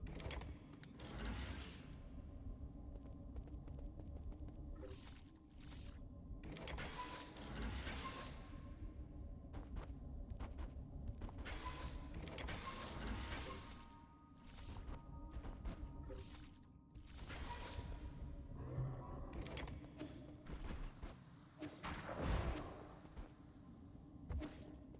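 A slow elevator grinds along in the video game Nine Sols, giving a steady mechanical whirring and creaking with intermittent clanks and rattles that run through the whole stretch at moderate loudness.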